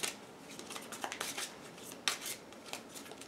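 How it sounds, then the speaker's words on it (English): Tarot cards are shuffled in quick, crisp riffles and flicks, a fast run of papery snaps and rustles close up, with no talking. "I might just shuffle the traditional way."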